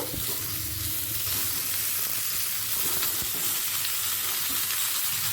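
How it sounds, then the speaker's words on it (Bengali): Raw jackfruit frying with potatoes in a little oil over medium-high flame, a dense continuous sizzle and hiss close up with faint stirring underneath, no talk. "এঁচোটা আলুর সাথে এক মিনিট ভেজে নেব মিডিয়াম টু হাই ফ্লেমে"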